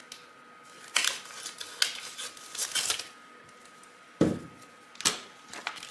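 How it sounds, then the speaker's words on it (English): Scissors snip a piece off a roll of transfer tape in a quiet room, a handful of sharp, close clicks and crisp cuts spaced irregularly with silence between. "Okay, so now we're going to take our transfer tape. I'm just going to cut a piece off here."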